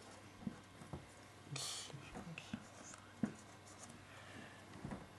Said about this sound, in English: I just wanna write this one out